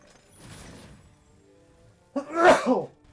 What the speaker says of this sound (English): Oh, can't stop sneezing.